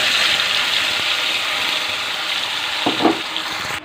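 A bay leaf sizzles in hot mustard oil in a kadhai, giving a steady, close frying hiss with a brief clatter near the end.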